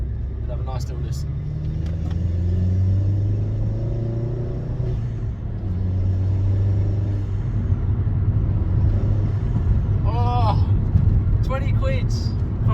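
A Vauxhall Corsa VXR fitted with a Halfords cone air filter accelerates from inside the cabin, its deep engine drone rising in pitch across several gear pulls, with a voice briefly talking over it.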